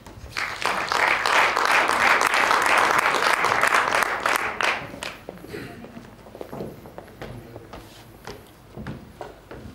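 Audience applause at a Venray awards evening as two aldermen come onto the stage, loud and sustained for about five seconds before fading into scattered claps and footsteps.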